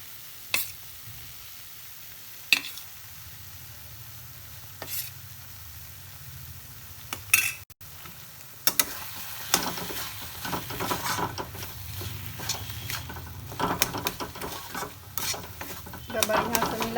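A spoon stirs a mixture of ground flaxseed (tisi) and vegetable curry in a pan, giving soft scraping and sizzling strokes that grow busier and more continuous in the second half, with a few sharp clinks, close and moderately loud, no talking.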